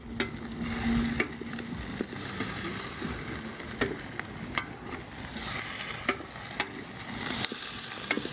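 Oil sizzling and crackling steadily in a kettle as bean goulash cooks over an open fire outdoors, with frequent stirring scrapes and clinks from a utensil throughout.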